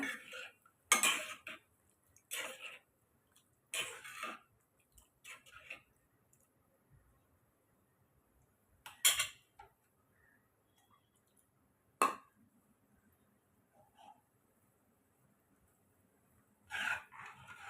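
A spoon scrapes and clinks against a metal pot of bitter gourd curry in scattered strokes, with quiet pauses between bursts of stirring.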